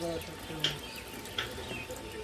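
Steady rush of water running from a basin tap during handwashing at a roadside eatery, a continuous close hiss with a couple of faint clinks and a voice in the background.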